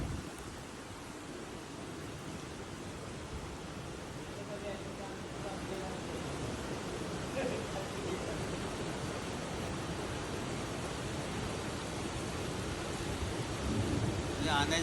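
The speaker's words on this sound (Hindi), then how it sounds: "heavy pre-monsoon rains over the last 2 days" Heavy pre-monsoon rain in Mumbai, a dense steady roar of downpour with a rumble of thunder, loud and continuous, with voices faintly underneath.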